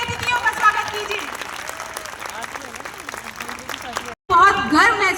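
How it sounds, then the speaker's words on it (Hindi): Loud applause from a crowd welcoming guests at a Girls Power Project camp event, with speech over the clapping, a brief cutout near the end, then the clapping resumes strongly. "एक बार जोरदार तालियों से हमारे सभी अतिथियों का स्वागत कीजिए।"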